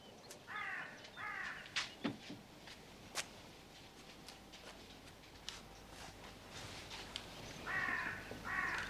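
Crows caw in short, harsh bursts of several calls, twice near the start and again at the end, over a busy outdoor background of faint clicks and rustles.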